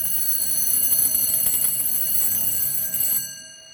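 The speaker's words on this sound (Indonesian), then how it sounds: "Karena dia posisinya masih men-trigger alarm seperti jam waker dia." A Frisian Dutch tail clock's alarm rings as a fast, continuous metallic bell rattle, loud and close, running for about three seconds before it stops abruptly.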